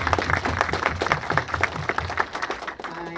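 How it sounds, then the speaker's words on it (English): An audience applauds nurses and healthcare workers at a film Q&A event, giving a short burst of steady, close clapping from a crowd. "round of applause to all the nurses and healthcare workers in the audience"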